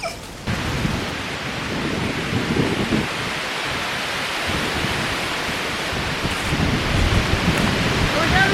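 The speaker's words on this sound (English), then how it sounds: "I don't know if you can hear me because it's very windy" Strong wind blows hard outdoors, a constant loud rumbling roar that buffets and gusts throughout with no other sounds on top.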